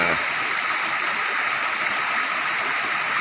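Floodwater from heavy rain in So Phisai district, Bueng Kan province, Thailand, rushes across a road in a steady, loud, broadband gush that stays continuous and unbroken throughout.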